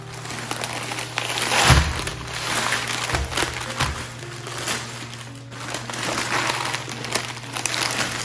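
An old garment is pulled out of a plastic dry-cleaning bag, giving close, crinkly plastic rustling and crumpling in irregular bursts over a low steady background hum.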